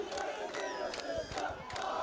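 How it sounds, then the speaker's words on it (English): A rugby crowd at a school second-XV match between Bishops Diocesan College and St. Andrew's College roars and cheers in a loud, sustained wash. A few louder shouts rise and fall, and there is no clear commentary. "the crowd is absolutely loving this from Costa"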